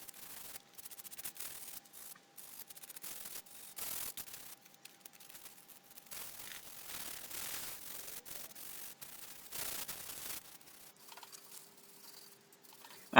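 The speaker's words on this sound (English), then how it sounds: "So now I'm just hand finishing it with some more sandpaper, a finer grade, I think probably 120 grit" Wood on a portable folding workbench is hand sanded with 120 grit sandpaper, a close, quiet scratchy rubbing in short irregular strokes with brief pauses between them.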